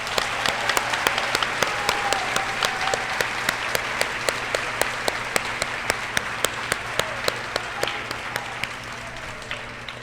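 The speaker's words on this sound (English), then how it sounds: "can we please give a round of applause for Miss Folds and Miss Tilley" Audience applause for two teachers at a school promotion ceremony, a sustained round of clapping from a seated crowd with distinct individual claps standing out, fading slightly toward the end.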